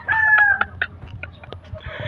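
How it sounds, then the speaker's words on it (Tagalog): Hungry gamefowl at a game farm in Alaminos, Laguna, with a nearby crow followed by a scatter of clucks and short calls from several birds, close and fairly loud. "kaya gutom na gutom ho mga manok"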